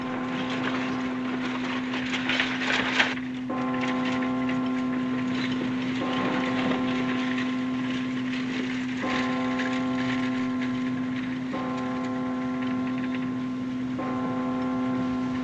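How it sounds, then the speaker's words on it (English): A church bell rings repeatedly at a steady, slow pace, each stroke ringing out and lingering over a constant low hum. "There's something peaceful about a church bell, isn't there"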